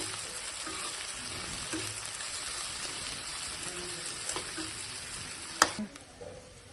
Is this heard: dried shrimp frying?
yes